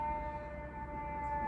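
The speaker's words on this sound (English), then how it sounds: "I know you guys hear the sirens." Fire truck sirens in New York City wail steadily with strong sustained tones, heard at moderate distance over low traffic rumble, with no talk.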